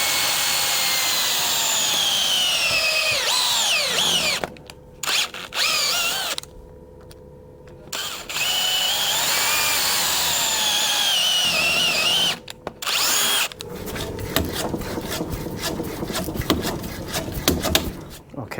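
A power drill whines steadily while drilling around a front lower arm bush on a Range Rover Sport L494, pausing briefly a few times then resuming, with a rougher grinding buzz toward the end; close and loud, with no talking.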